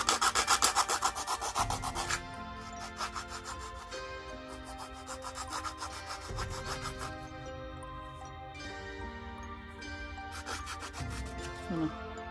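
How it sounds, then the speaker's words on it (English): A rough-edged nail file rasps back and forth, rounding the corners of a small miniature frame in quiet, repeated close strokes. "You could just do, rounded corners if you wanted to with your nail file."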